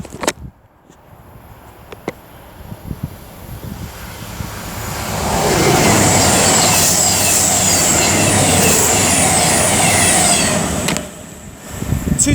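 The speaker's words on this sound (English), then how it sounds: "I knew we could hear Voyagers." Voyager diesel trains passing through Lichfield Trent Valley station, a loud sustained roar and rush building from a quieter start, holding steady for several seconds before easing off near the end.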